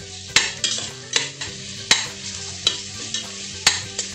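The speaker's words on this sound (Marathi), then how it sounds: "पण आपल्याला छान मिक्स करून घ्यायची आहे, तेलावर भाजून घ्यायची आहे।" Two small spoons of ginger garlic paste frying in oil in an open pan, stirred with regular, sharp scraping strokes over a continuous close sizzle.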